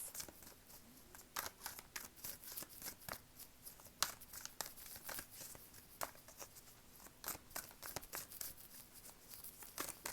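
Tarot cards drawn and handled during a love reading, giving soft repeated crinkly snaps and shuffling flicks at an irregular pace, fairly quiet and close with no talking.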